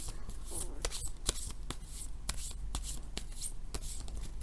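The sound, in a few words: tarot cards being shuffled and drawn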